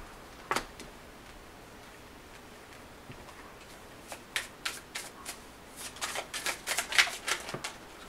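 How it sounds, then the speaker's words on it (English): Tarot deck being shuffled with cards slipping and spilling out: a sharp flick near the start, then a busy stretch of rapid papery riffling and slapping taps, close and moderately loud. "You have a lot of cards just flying out of the deck."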